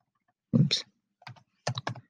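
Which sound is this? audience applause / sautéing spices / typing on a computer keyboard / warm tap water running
typing on a computer keyboard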